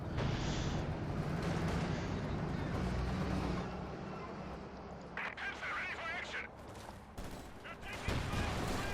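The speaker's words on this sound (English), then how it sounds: "A lot of submachine gun fire." Submachine gun fire from a large conscript horde fighting a Panther tank in Company of Heroes 2, heard as a dense rattling fusillade mixed with battle noise under steady commentary.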